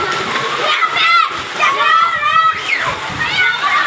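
Children splash and bathe in rain-flooded street water near an Eidgah in Raiwind during heavy rain, with loud repeated sloshing and splashing mixed with shouting, chattering kids close by.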